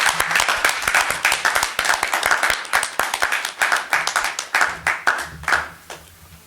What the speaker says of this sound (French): Je vous propose maintenant d'acclamer le fédéral et toute la délégation qui nous vient de Paris et Mantes-la-Jolie.